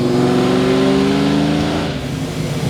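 A 620 hp Mystic Cobra SN95 Mustang pulls hard in third gear, its loud engine note climbing steadily in pitch and heard up close, then easing off near the end.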